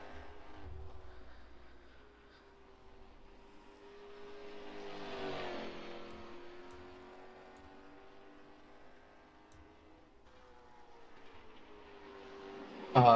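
Race car engines in a sim racing game at Myrtle Beach drone steadily at moderate level, with a rising, swelling pass near the middle and a sharp loud burst at the very end.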